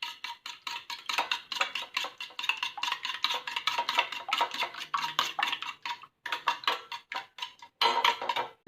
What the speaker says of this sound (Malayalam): ആ ടൈം നമുക്ക് 2 മുട്ട ഒന്ന് നന്നായിട്ടൊന്ന് പതപ്പിച്ചെടുക്കാം.